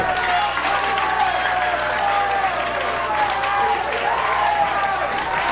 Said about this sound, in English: The crowd is rhythmically clapping for her.